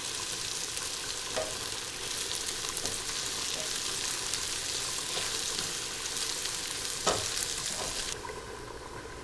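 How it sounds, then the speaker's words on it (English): Dried red chilies and fresh curry leaves shallow-fry in coconut oil with a steady, fairly soft sizzle and crackle. A few brief louder pops and stirring sounds come through before the sizzle eases near the end. "Let's shallow fry this and add it to our curry."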